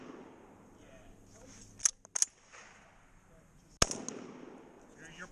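Shotgun blasts at an action shotgun match: three sharp, loud reports in quick succession, a pair close together then a single shot, with faint outdoor background and people talking between shots.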